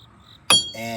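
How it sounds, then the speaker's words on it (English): A single sharp metallic strike of a heavy hammer on a steel control arm of a 2007 Jeep Liberty rings out after a quiet stretch, leaving a bright, lingering clang. "All right, so here it is with this heavy hammer"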